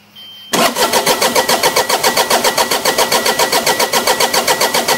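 The diesel engine of a Bobcat 238D mini excavator fires up after a brief quiet moment and settles straight into a loud, rhythmic clattering idle with a fast, even pulse.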